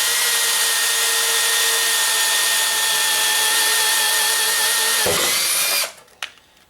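A Bosch DDB181 compact 18V drill bores a 1 inch hole, a loud steady whirring whine that holds for about five seconds, dips as it bites, then winds down and stops with a few faint clicks.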